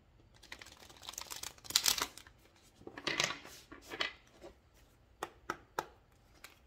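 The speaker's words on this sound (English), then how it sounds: "Let me just shuffle the cards, get the energy going through them." Moonology oracle cards are shuffled by hand, producing close, quiet bursts of papery riffling and crisp card flicks that come in uneven clusters, followed by a few isolated sharp taps.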